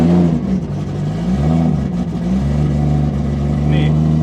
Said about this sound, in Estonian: Aga me saime loa auto startida.